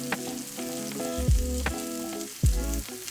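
Cabbage sautéing in a pan over high heat, a steady close sizzle with occasional clanks and scrapes of a spatula stirring against the pan bottom.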